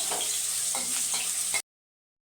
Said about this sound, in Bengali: লঙ্কা দেবো ফোড়নে,